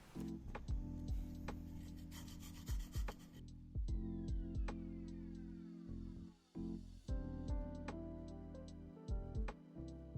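A fresh spice root is peeled and grated for coconut drops, giving close, repeated rasping scrapes in an uneven rhythm with short pauses.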